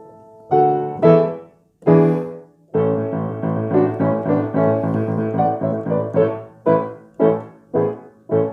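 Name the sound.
grand piano being played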